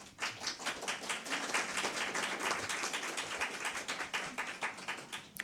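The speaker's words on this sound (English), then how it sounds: "I guess that applause was for Tina" Scattered clapping from a small crowd in the room at a school board meeting, a moderate burst of applause holding steady for several seconds before tapering off, with no talk over it.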